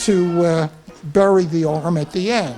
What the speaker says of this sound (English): you may hear my cat in the background